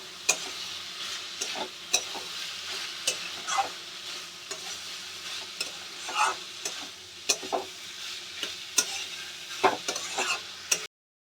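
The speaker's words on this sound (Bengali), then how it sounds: "আলুটা দিয়ে এবার আমি ভালো করে মশলার সঙ্গে কষিয়ে নেব।" Fried potatoes are stirred with spices in a pan, bringing repeated sharp scrapes and clacks of the utensil over a constant low sizzle at a fairly even pace, close by and with no talking.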